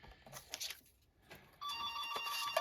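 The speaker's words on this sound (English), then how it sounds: "the phone's ringing" A telephone rings indoors in a card-making craft room, its steady electronic trill starting after some quiet handling noises and continuing loud and clear to the end.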